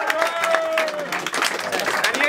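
A crowd at a Don't Flop rap battle cheers and applauds for battle rapper Enigma, with loud whoops and shouting over dense clapping, and voices calling out throughout.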